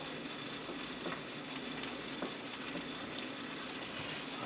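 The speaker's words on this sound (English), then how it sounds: "I'm going to put my bacon on here. We're going to go for 2 slices of bacon on each one" Two slices of bacon sizzling on a grill for a caramelized onion bacon cheeseburger, a steady close crackle with faint pops scattered through it and no voices.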